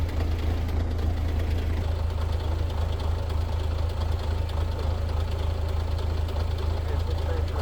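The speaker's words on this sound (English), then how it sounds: "Tractor really runs nice, really starts nice." A tractor engine idles steadily with a deep, knocking diesel rumble, constant and close throughout with no pauses.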